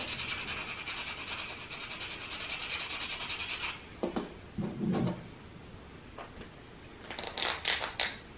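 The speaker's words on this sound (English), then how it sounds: "The rest of this I'll shave down with just a piece of sandpaper to get it nice and tight in there." Sandpaper rubs against a homemade wooden hammer handle in a steady, close scratching rhythm for several seconds, followed by a pause with a few knocks and then brief renewed scraping strokes.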